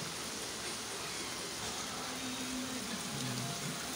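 Steady, dense rain hiss fills the whole stretch, with a faint low hum rising briefly near the end.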